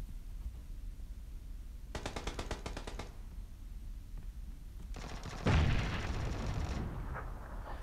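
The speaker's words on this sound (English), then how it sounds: "So I'm just taking a couple shots to see if I see some blood splatter." Gunshots ring out in the video game PUBG, a short rapid burst followed by a pause, then a second burst with a heavier boom, loud and close over a quiet low ambient hum.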